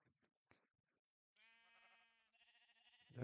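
Sheep in Minecraft bleat faintly in two drawn-out, wavering calls, one after another, with a few soft clicks and thuds before them and a brief louder noise at the very end.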